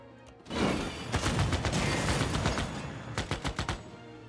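Artillery fire from a unit in Civilization VI, a dense rumbling volley of booms and crackling blasts that swells and sustains, then a quick string of sharper bursts near the end.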